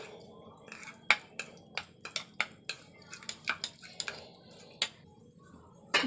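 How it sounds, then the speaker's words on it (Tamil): A spoon clinks and scrapes against a bowl while garlic butter and chilli flakes are mixed for garlic bread, a series of sharp, close taps at an uneven rhythm over a quiet background. "இப்போ இதை மிக்ஸ் பண்ணிக்கலாம்."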